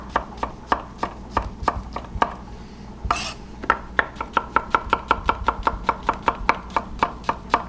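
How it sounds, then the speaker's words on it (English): A knife chops mushrooms into halves and quarters on a cutting board, with a steady run of sharp, evenly spaced, close-up knocks and a brief scraping sound in the middle. "I kind of want to do them in half and then cute little quarters"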